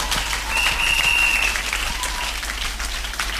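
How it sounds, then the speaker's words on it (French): A church congregation applauds loudly, a dense, continuous roar of clapping filling the room with a faint high whistle or cheer briefly audible. "Acclamons fort."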